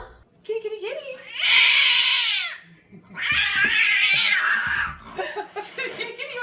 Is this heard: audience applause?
no